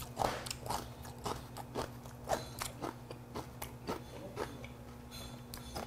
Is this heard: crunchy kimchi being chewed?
yes